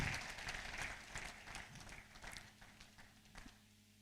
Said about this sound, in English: Let's all put our hands together in a big way.